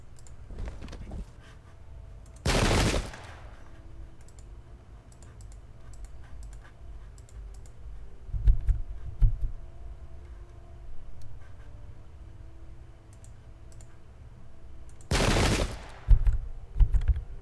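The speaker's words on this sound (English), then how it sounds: "Just trying to fire every single gun that can be fired, pretty much." Guns fire in a Thirty Years War video game battle at Wimpfen, with two loud, sharp volleys far apart standing out over quiet clicking and faint background rumble.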